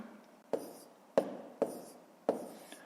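A pen writes on paper while a decimal multiplication is worked out in columns: four short, faint, scratchy strokes at a steady pace, close and quiet, with no talking.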